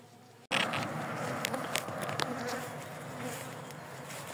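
An aggressive, recently transferred honeybee swarm buzzes loudly and close, a dense steady drone that starts abruptly and continues with individual bees zipping past.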